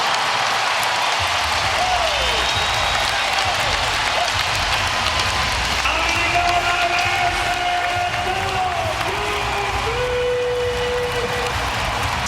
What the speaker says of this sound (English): The crowd into it here. Great environment, Doris, here in Dallas.